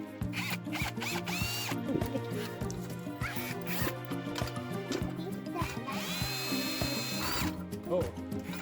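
A small power socket tool fastens an RV Eaz-Lift hitch adapter, whirring in short bursts whose pitch rises and falls, close by, with some talk mixed in.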